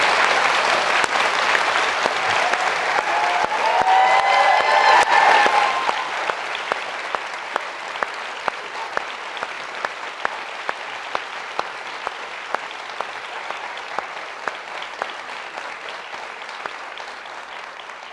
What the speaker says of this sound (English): Well, a round of applause for that.